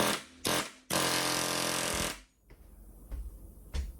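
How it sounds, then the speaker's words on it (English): Pneumatic impact gun driving a part into a 1972 VW Super Beetle, heard as two short bursts and then one sustained loud hammering run of about a second, followed by quiet shop noise with a few faint knocks. "Okay, I'm going to drive it in with that gun."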